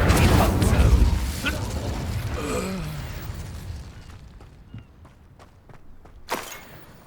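Incendio fire spell cast in the Hogwarts Legacy video game: a loud whooshing burst with crackling mechanical clatter, fading into softer game sounds and a few clicks, then a sharp pop near the end.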